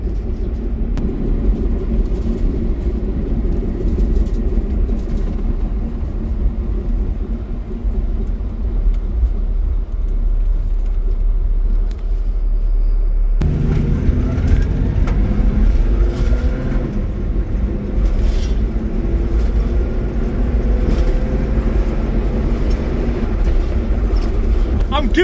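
An old Mopar car rolls slowly through a small neighborhood at about 15 mph, its engine giving a steady low rumble that thickens and grows louder partway through, with the drive continuing unbroken and no talking.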